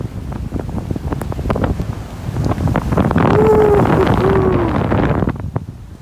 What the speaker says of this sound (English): Some big waves rolling in,